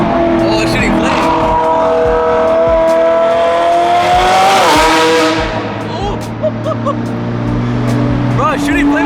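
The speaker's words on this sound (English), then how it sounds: "it's shooting flames on throttle" A BMW F80 M3 drift car on a mountain road roars loudly and continuously near the listener, its engine rising and falling with throttle and popping as it shoots flames, while a person talks excitedly over it.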